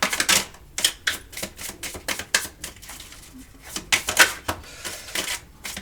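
Someone shuffles and handles oracle or tarot-style cards to draw one from a deck, giving quick close clicking and riffling bursts separated by short gaps.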